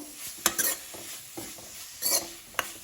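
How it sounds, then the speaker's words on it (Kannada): Grated carrot fries in ghee in a pan, a soft sizzle broken by several scraping stirs of a spoon, close and without talk. "ಇದನ್ನ ತುಪ್ಪದಲ್ಲಿ ಒಂದು 5 ನಿಮಿಷ ಚೆನ್ನಾಗಿ ಫ್ರೈ ಮಾಡ್ಕೊಳ್ಬೇಕು"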